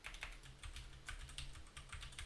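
Fingers type on a computer keyboard in quick, irregular bursts of soft clicking keystrokes, quiet and close, heard alone over a faint low hum.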